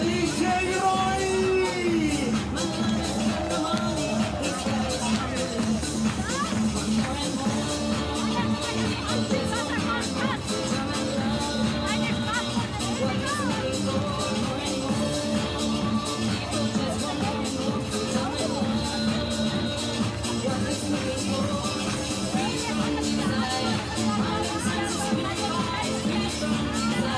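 A lively crowd at a Para Biathlon 7.5km sprint event in Milano Cortina keeps up continuous cheering, yelling and whooping for the DJ, dense and loud throughout with music-like tones underneath.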